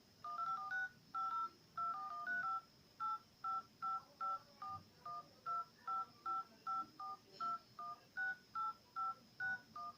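Telephone keypad DTMF tones as a long phone number is dialed, a steady sequence of roughly two dozen short, distinct beeps at an even rhythm, close and clear with no talk over them.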